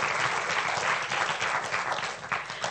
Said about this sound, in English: can we have a big round of applause for Patricia?